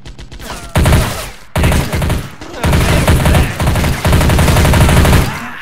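Gunfire bursts from a World War III strategy game battle as North Korean and Chinese troops attack a US airbase, loud volleys in several separated bursts with dense rattling machine-gun fire and brief gaps between.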